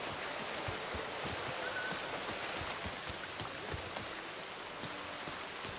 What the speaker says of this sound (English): I can't see through this rain, jeez.